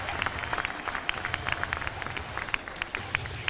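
Steady applause and clapping from a rodeo crowd at the Xtreme Bulls finale, a dense patter of many hands with faint crowd noise underneath.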